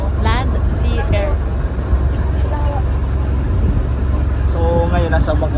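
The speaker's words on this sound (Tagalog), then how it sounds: "so ngayon nasa bangka na kami." A passenger boat engine runs on the way to Gigantes Island, a loud steady low drone throughout, with people talking over it and wind buffeting nearby.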